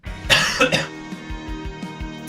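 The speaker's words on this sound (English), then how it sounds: "You got a cough." A couple of sharp, throaty coughs burst out close by, followed by faint rhythmic thumps of background music.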